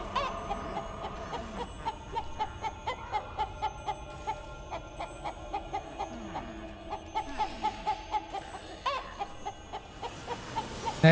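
Chicken clucking in the video game City of Brass, a steady rhythmic run of short clucks repeating throughout over game music.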